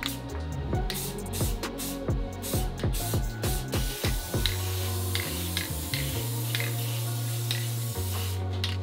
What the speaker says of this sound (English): I'm gonna just do very light layers of the black spray paint